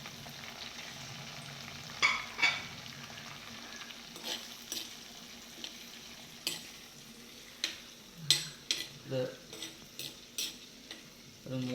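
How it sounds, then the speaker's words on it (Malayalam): Chopped green chillies and curry leaves sautéing in oil for a king fish curry, a soft steady sizzle under scattered sharp clicks and scrapes of a spoon against the pan, no talking. "അതിനുശേഷം നമുക്ക് അരിഞ്ഞു വെച്ചിരിക്കുന്ന പച്ചമുളക് ഇടാം. അതിൻ്റെ കൂടെ കറിവേപ്പിലയും കൂടെ കുറച്ച് ഇടാം. ഇതൊന്ന് മൂത്ത് വരട്ടെ."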